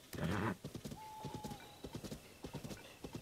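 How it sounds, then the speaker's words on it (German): Horse hooves clip-clop in a steady rhythm while riding in the game The Legend of Zelda: Tears of the Kingdom, opening with a brief snort and whinny, clear and close with no talk. "Reiten wir da jetzt hin?"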